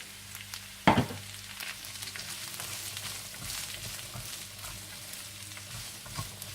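Carrots, peas and capsicum fry steadily in a pan with ginger and garlic, giving a continuous soft sizzle, with one sharp clatter near the start.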